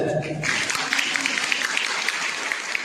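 An audience at a talk on food and nutrition as medicine breaks into applause: a brief voice ends, then a dense, sustained burst of many hands clapping fills the rest, fairly loud and even.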